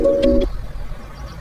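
A phone call being dialed, a quick run of a few electronic keypad tones in the first half-second, followed by a quiet room.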